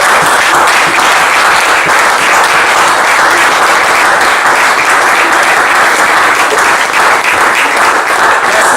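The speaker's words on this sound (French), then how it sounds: "Est-ce qu'on peut acclamer très fort?" Loud, sustained applause from a church congregation, dense continuous clapping filling the room at an even, high level for the whole stretch.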